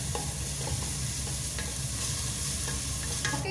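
Blended tomato hits a pan of frying garlic, ginger and onion for a chicken curry sauce, giving a loud, constant sizzle with stirring scrapes throughout and no voices.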